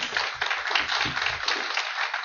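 An audience at a NAACP candidates forum applauds, steady hand clapping from many people in a hall, fairly close and continuous for a couple of seconds.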